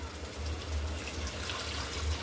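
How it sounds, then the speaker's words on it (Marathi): Hot water is poured into cooked lentils (dal) while sambar is being made, giving a steady, soft rushing splash with a low rumble, close and without talk. "आपण डाळीमध्ये गरम पाणी टाकून"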